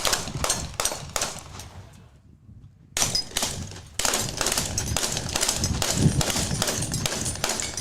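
Rapid pistol shots ring out at an outdoor 3-gun shooting match, loud sharp cracks in quick bursts with a brief lull before firing resumes steadily.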